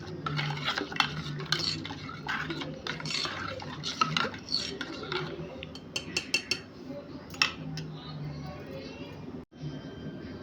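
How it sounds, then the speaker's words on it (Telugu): A spoon clinks and swirls through masala buttermilk with ice cubes in a glass, bright rattling taps and jingles repeating over ten seconds, close and fairly loud, ending with a brief pause. "ఇప్పుడు స్పూన్తో అన్నీ మిక్స్ అయ్యేలాగా కలుపుకోవాలి."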